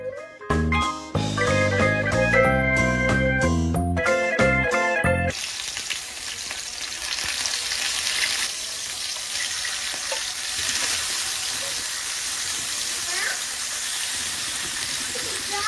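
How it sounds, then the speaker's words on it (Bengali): Fish fries in a pan with a steady hiss and sizzle. Brief music plays first, then the frying continues alone at moderate volume. "দিকে মাছটা ভাজা হচ্ছে"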